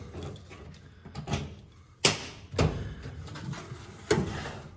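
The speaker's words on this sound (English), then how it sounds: "Fortunately, we also have the key for the bottom half of the box, so we can lock those drawers." Drawers of a mechanic's metal toolbox being locked, heard as several sharp clacks and clunks spaced irregularly, with faint key jingling between them.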